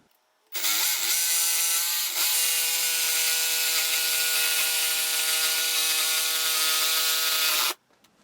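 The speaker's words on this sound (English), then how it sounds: "I'm having a little trouble with this jigsaw blade getting through here" A jigsaw saws through wood for a custom belt buckle, its motor starting abruptly and holding a steady, loud buzzing whine for about seven seconds with a brief hitch early on, then cutting off sharply.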